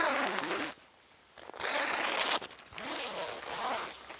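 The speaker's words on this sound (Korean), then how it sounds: "이 상태에서 지퍼를 연결해서 지퍼를 그냥" Zipper on a hexa camping tarp being connected, several quick rasping zips in bursts with short pauses between, close and loud.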